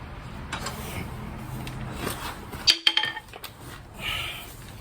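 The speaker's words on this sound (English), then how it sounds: "I'm going to go ahead and throw one of these lug nuts on the rotor so that won't flip around." A metal lug nut set onto the brake rotor of a 1997 Honda Civic gives a few quick, light metallic clinks close by, over faint garage background noise, with no talking.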